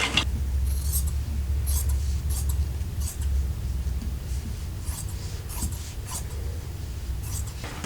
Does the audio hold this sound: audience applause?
no